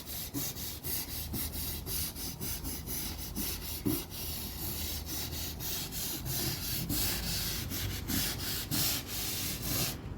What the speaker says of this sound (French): à la bonne vieille méthode artisanale, le balai brosse